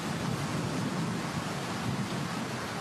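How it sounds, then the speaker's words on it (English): A strong gust of wind sweeps across a golf course at a professional women's final round, a loud, steady roaring rush of broadband noise buffeting the microphone throughout, with no talk. "Oh, the wind has really come up in a huge gust."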